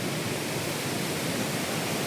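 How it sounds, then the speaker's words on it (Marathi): Forest waterfall water flowing down over rocks, a steady broadband rushing hiss without variation, heard alone at moderate level. "त्या वरच्या धबधब्याचं पाणी इकडे खाली येतोय."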